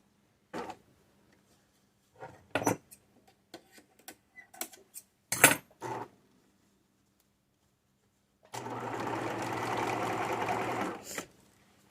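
A sewing machine zigzag-stitches across denim jeans, first a scatter of sharp ticks and clicks as the fabric is positioned, then a steady buzzing run of stitching for about two seconds near the end.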